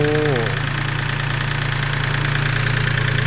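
A Yanmar EF352T EX tractor engine idles steadily with a low, even throb after a brief higher tone fades at the start; loud and close, no voices.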